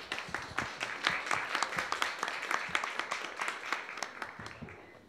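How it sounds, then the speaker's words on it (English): Audience applause for speaker Max Keene at a talk on art and alienation: dense, steady clapping from a room full of people, moderately loud and sustained throughout without fading. "So can we give a round of applause to Max?"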